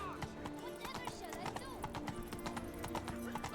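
Roach, Geralt's horse in The Witcher 3, gallops with a steady, close run of hoofbeats over a sustained tonal game backdrop.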